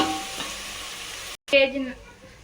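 Water is poured into a hot pot of cooked-down tomatoes for pulao, giving a steady broadband hiss, then a brief break followed by a sharp burst of sizzling and bubbling that fades.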